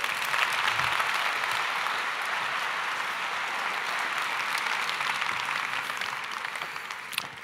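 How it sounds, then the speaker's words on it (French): Audience applause welcoming panel speakers onto the stage at a round-table congress session, a steady, dense wash of clapping that holds at even loudness throughout and tapers slightly at the end. "Sous vos applaudissements, s'il vous plaît."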